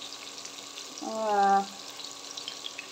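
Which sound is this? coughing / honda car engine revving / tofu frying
tofu frying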